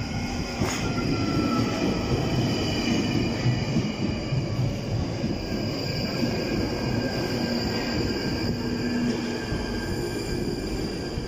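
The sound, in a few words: London Underground train arriving at platform for High Barnet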